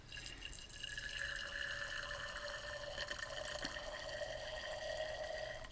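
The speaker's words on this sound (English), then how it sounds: "I'll take my water bottle and I'm going to fill that up to 30 milliliters" Water poured from a water bottle into a glass graduated cylinder makes a steady trickling, rising-pitched filling sound that continues evenly, close and fairly quiet, with no talking.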